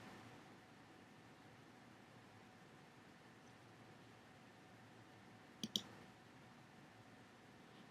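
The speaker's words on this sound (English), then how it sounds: "Click on Like link" A computer mouse clicks a few times in quick succession while a Facebook Like link is selected on screen, the sharp clicks standing out near the end against a steady, quiet hiss.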